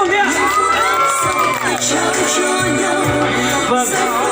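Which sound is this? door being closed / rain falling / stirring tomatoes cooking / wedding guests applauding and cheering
wedding guests applauding and cheering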